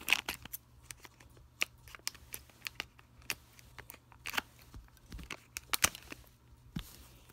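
Plastic Lego Ninjago Movie minifigure blind-bag packaging being cut and torn open, with sharp crinkling snips and rustles in scattered bursts, close and fairly quiet.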